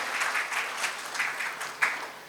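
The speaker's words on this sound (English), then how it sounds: "Mr. Abhishek Dubey, a big round of applause for him" An audience at a 2023 Mumbai skills and entrepreneurship forum claps in a brief, moderately faint round of applause, the clatter rising and falling unevenly with one sharper clap near the end.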